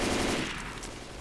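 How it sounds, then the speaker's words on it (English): Fully automatic combat rifle fire in the zombie shooter Left 4 Dead 2, a short, dense burst of rapid gunfire that starts loud and trails off slightly over about a second. "Fully automatic combat rifle"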